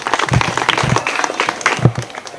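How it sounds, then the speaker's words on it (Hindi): A small group claps at a self-defence training session for girls, with close, uneven bursts of hand claps that swell and fade over a couple of seconds. "आप लोग खुद ताली बजाओगे जी"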